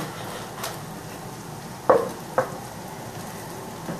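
Fried rice sizzles quietly in a frying pan while a utensil stirs, scraping and knocking against it a couple of times; no talking.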